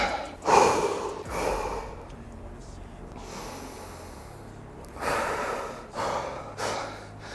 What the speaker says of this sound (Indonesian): Aku perlu nafas dulu.